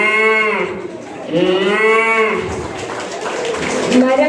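A performer at a St. Thomas Day celebration at St. Mary's Church, Kalpra, imitates a cow mooing with his voice, giving three loud, drawn-out lowing calls in close succession.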